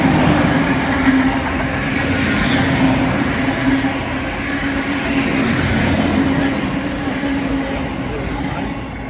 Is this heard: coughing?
no